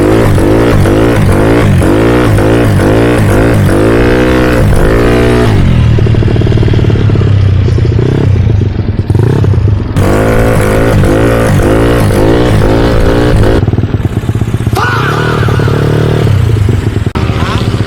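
A Yamaha Mio 160cc scooter engine revs hard and loud during wheelie practice, rising and falling in repeated bursts with a clattering rumble throughout.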